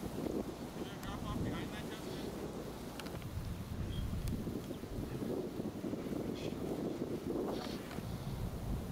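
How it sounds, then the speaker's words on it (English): Wind gusts across an outdoor disc golf course, buffeting the microphone with a steady low rushing roar, while faint voices come through now and then. "you can really hear that wind"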